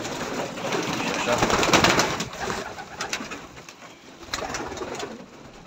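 Breeding pigeons coo softly in a loft amid a busy, rustling background of flapping and movement, with a few louder bursts toward the end.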